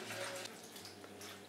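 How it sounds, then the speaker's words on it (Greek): A cup of water is poured into a bowl of flour mixture in a home kitchen, making a short gurgling trickle that stays close and moderately quiet, with faint splashes toward the end. "Βάζουμε και το 1 φλιτζάνι νερό."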